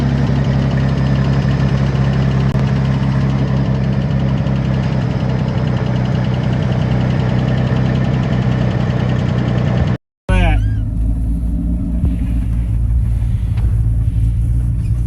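A 454 big-block V8 in a 1977 Chevrolet C10 idles with a deep, steady rumble, briefly cutting out before the rumble returns, lower and rougher, with faint background noise.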